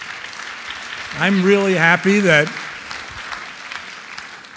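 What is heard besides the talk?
audience applause at a talk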